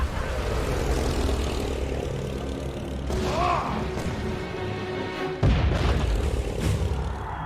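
A World War I German squadron of propeller aircraft drones overhead in Valiant Hearts: The Great War, a loud engine roar with a rising whine midway and a heavy thud near the end.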